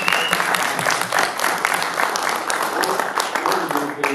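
An audience applauds after a film screening at a Q&A, dense continuous clapping at moderate loudness, with a few voices under it.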